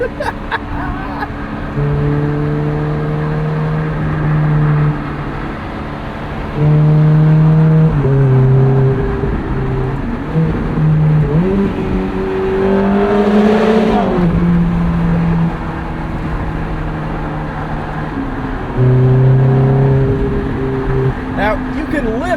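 A 2008 Ferrari F430 Spider's V8 screams up toward 8500 RPM on a sunset drive, with loud, close surges of rising revs broken by brief drops at gear changes, repeated several times.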